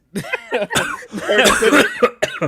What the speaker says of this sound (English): This cough has not gone away.